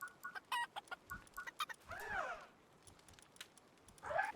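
A chicken in the Palworld video game clucks in a short series of quick, sharp calls and then gives a longer drawn-out cluck, moderately close with no talking.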